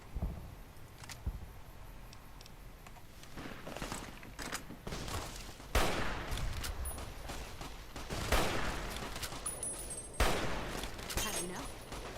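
Gunfire in the video game Fallout New Vegas: bursts of shots and sharp cracks fire repeatedly through the scene, some louder volleys standing out, with a voice speaking at points over the action.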